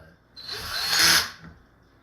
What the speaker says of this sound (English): Take a power screwdriver. I just set the torque on 1.